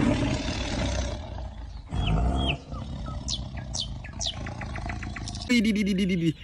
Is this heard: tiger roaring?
yes